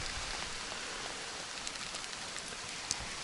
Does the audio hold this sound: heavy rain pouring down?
yes